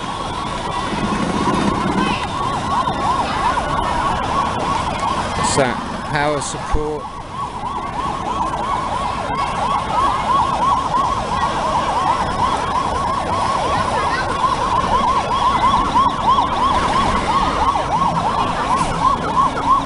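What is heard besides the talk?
fire engine siren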